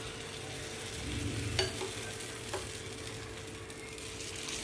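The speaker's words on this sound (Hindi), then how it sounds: "मैंने थोड़ा सा राई का तड़का अप्पे में ही दे दिया" Soft, steady sizzle of mustard seeds crackling in hot oil in an appe pan, with a couple of faint pops and a low background hum.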